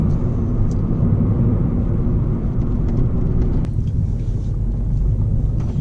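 A Ford Fiesta ST on a Mountune MP215 tune, pulling at full throttle in second gear with a loud, steady engine roar heard from inside the car, droning continuously with no pauses.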